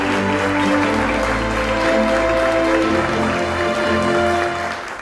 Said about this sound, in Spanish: Démosle un muy buen aplauso a nuestro bien conocido y amigo Fernando Oviedo.